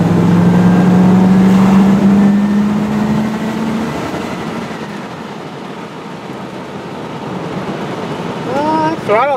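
An RV engine with carburetor trouble, treated with Seafoam, is held at high throttle near 4,000 RPM. It gives a loud, close, steady droning hum that eases off partway through, with faint higher squeals near the end.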